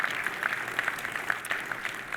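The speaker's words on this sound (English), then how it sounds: "So please join me of giving applause to the panelists." A conference audience applauds panelists after an ocean leadership panel, a steady patter of fairly faint clapping spread across the room for a couple of seconds.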